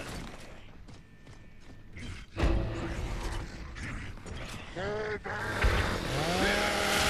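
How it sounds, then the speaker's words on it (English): A chainsaw revs in a Gears of War 2 match: a loud, harsh, rising mechanical whine that surges and holds after a burst of gunfire and clatter, amid dense game noise. "Ah, Christmas chainsaw."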